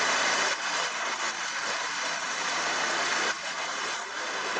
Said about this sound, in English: I've warmed up the engine again.